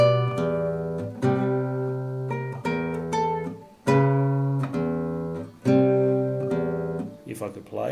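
Electric guitar plays a theme riff, resolving on a high string: clear, close plucked notes in repeating phrases with ringing sustained tones, played alone without talk.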